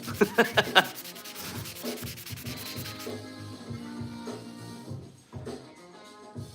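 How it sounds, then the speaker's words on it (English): Wood is sanded by hand in a woodworking shop, with rough rubbing strokes in a quick rhythm. The strokes start loud and close, then settle into a softer, steady scrubbing that fades toward the end. "Well, let's watch this guy sand."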